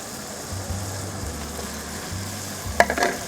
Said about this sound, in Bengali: চর্বিটাকে দিয়ে দিলাম দিয়ে আরও ভালো করে কষবো